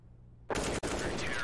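A single sharp rifle headshot in the video game Counter-Strike cracks loudly out of near silence, followed by a brief gap and a dense burst of game noise.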